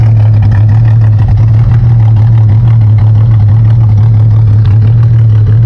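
A 1986 Holden VK Commodore engine idles through its exhaust with a steady, loud, deep drone that stays close and constant throughout, with no voices over it.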